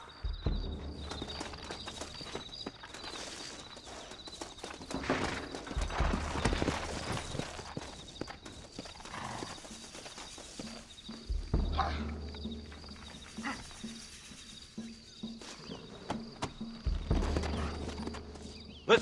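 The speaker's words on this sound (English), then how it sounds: "Looks like Carlos left us some horses." Steady clip-clop of horse hooves walking in the video game Red Dead Redemption, with occasional snorts over a continuous background hum and scattered mechanical noise.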